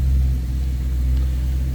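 A 2013 BMW M3 Lime Rock Edition idles close by, its engine holding a steady, deep rumble throughout with no revving and no voices.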